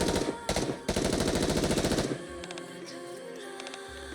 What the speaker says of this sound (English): P12 tilts her gun up and fires into the air.